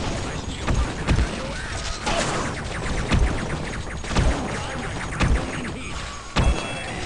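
In the video game Duke Nukem 3D, an elevator moves with loud mechanical clanks that repeat roughly every second over a steady rumble. It sounds like close, busy game audio.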